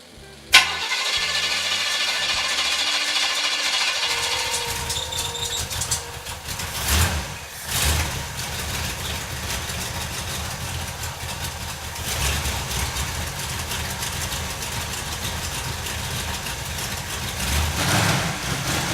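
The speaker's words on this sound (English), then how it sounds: "So let me start up the engine." A Jaguar Mk2 car engine cranks and catches with a sudden burst, then settles into a loud, continuous rumbling idle, with a few revs along the way.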